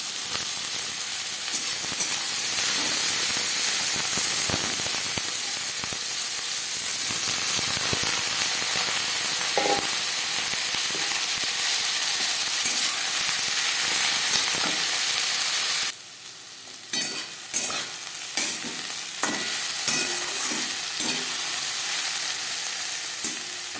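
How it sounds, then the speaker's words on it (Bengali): Potatoes frying in hot refined oil in a pressure cooker give a loud, steady sizzle and hiss throughout, with clattering stirring strokes and scrapes in the final stretch. "তিন চামচ রিফাইন্ড অয়েল গরম করে নিয়েছি এবার দিয়ে দেবো আলু"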